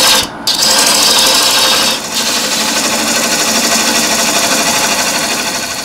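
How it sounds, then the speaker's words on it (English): A large round nose scraper cuts a wood vase spinning on a lathe, giving a steady, loud rasping scrape that runs nearly continuously with a brief break near the start. "I'm using a large round nose scraper."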